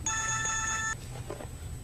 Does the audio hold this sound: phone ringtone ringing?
yes